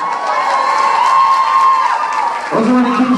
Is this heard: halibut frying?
no